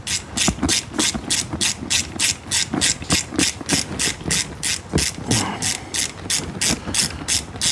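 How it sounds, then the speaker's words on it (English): Rapid, steady clicking from a 90-tooth gear wrench ratchet swung back and forth during a valve cover gasket job on a 2005 Dodge Dakota 4.7L, loud and close with a regular mechanical rhythm and no speech. "Busting out my good old trusty gear wrench."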